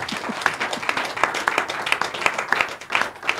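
Scattered applause during a live broadcast, a small group clapping in an uneven, loosely rhythmic pattern of individual claps, fairly close and moderate in volume.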